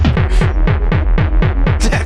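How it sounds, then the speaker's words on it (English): A punchy, booming kick drum drives an electronic acid track, thumping in a fast, steady four-on-the-floor pulse under dense synth layers, loud and close. "Here's a kick drum!"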